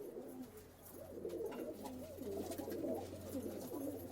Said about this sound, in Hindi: तो ये देखें आप सारे कबूतर